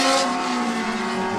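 Race car engines hum steadily at a racing event, the 2012 Spokane Festival of Speed, during a caution with the pace car out. A loud, continuous drone holds for the whole moment with no talking.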